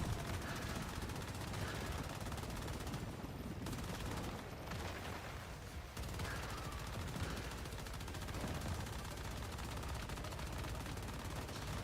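Sustained rapid gunfire blazes through a solo fight against a world boss in Once Human on a hard server, a dense, loud, continuous automatic barrage with a brief lull midway, under occasional talk.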